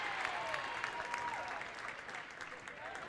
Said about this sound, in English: A big groan from the crowd.